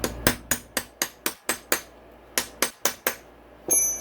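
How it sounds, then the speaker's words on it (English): Sharp, ringing hammer blows on a punch set under a part of a 2009 Yamaha YFZ450R engine during a rebuild, about a dozen evenly spaced strikes in two runs with a brief pause between, loud and close with no talk. "Now I should be able to set a punch underneath it."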